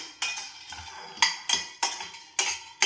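Roasted peanuts are added to a metal pan while cooking idli podi and stirred with a spoon, giving about half a dozen sharp, close scraping clinks in an uneven rhythm with quiet gaps between.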